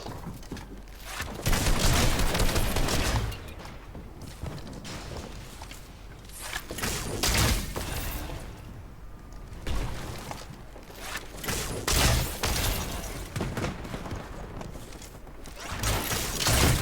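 Gunfire in a video game crackles in repeated bursts and single shots, loud and up close, mixed with clattering game effects across the stretch.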